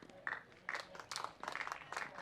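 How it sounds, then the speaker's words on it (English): Scattered applause from tennis club members at a Cottesloe Tennis Club state league match, several distinct bursts of clapping at a moderate distance, fairly quiet and with no talk over it. "Great support from the club members down here, getting a round of applause."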